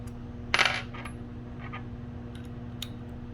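Small metal screws for a motor bracket on a DIY PLC trainer board clink together, with one sharp cluster of metallic jingling followed by a few fainter taps and ticks over a low electrical hum.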